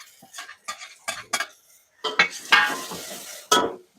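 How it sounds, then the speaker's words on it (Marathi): Chopped tomato and spice masala roasting in a pan, stirred with a metal spoon that scrapes and clinks in irregular bursts over a light sizzle, close and fairly clear. "हा टमाटा आणि हे सॉफ्ट होईपर्यंत आपल्याला हे चांगलं भाजून घ्यायचं आहे"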